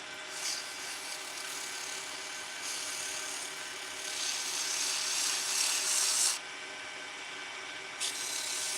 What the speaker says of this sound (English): So the sanding helps a lot.